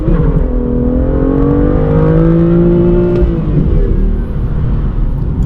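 A BMW M2 LCI with a manual gearbox accelerates hard, its engine rising loudly and steadily in pitch, then dropping briefly at a gear change before pulling again, heard close from inside.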